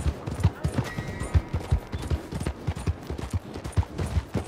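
Horse hooves clip-clop on the ground in the video game Red Dead Redemption 2, a close, loud run of uneven thudding beats at a quick trotting rhythm.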